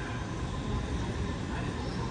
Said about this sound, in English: we have an Area 2 T8 MacArthur line service arriving into platform 23